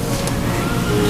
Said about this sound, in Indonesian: Mobil siapa itu?